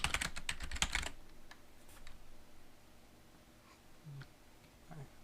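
Rapid keystrokes on a computer keyboard burst out for about a second as a username is typed, close and crisp, then fall to a quiet room with a few faint clicks.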